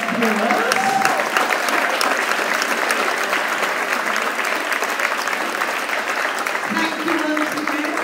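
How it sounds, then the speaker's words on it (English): Sustained applause from an audience at a school prize giving ceremony, steady and fairly loud throughout, with brief voices faintly audible near the start and end. "get your clapping exercise in"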